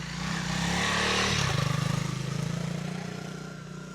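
A 2022 Honda CRF300L dual sport motorcycle rides a rough mountain trail, its single-cylinder engine droning loud and close with a steady throbbing pulse, briefly dipping and then picking back up over wind and gravel rustle.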